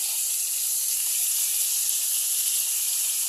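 Vegetables with small fish frying in a pan with salt and turmeric for a sabji and fish curry, a steady bright sizzle and hiss that stays even and close with no pauses.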